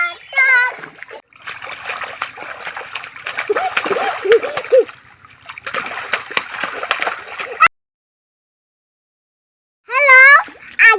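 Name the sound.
water splashing while swimming in small river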